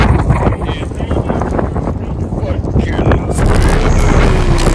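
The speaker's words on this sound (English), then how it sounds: "it was ludicrously windy on the day" Fierce wind at a rocket launch event near Mullaley buffets the microphone, a loud, rumbling, gusting roar that persists throughout.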